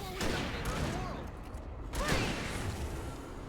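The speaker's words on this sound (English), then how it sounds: "Keep shooting! Keep shooting!" Gunfire from the video game Alan Wake, a dense continuous fusillade of shots with whooshing and mechanical creaks, loud and sustained throughout, mixed with a voice shouting over it.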